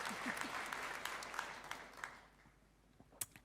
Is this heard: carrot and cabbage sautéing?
no